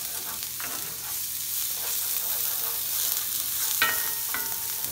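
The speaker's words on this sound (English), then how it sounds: "Sweat the onion first." Chopped onion sweating in olive oil in a pan over medium heat, a steady sizzle with a few soft stirring scrapes spread across the clip.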